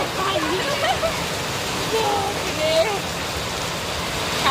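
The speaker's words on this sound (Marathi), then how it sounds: "पावसाने जोरदार हजेरी लावली, खूप जोरदार हजेरी लावली. रिक्षात बसलोय. जोराचा पाऊस" Heavy rain pours steadily around an auto rickshaw, heard from inside as a dense, unbroken wash of noise, with faint whistling tones drifting through.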